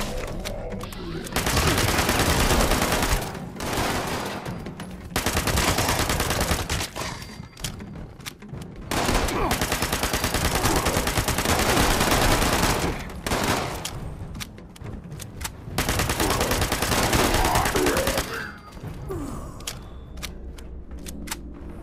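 An automatic rifle in Fallout 76 fires loud, sustained bursts, several long strings of rapid shots broken by short pauses, with no talking.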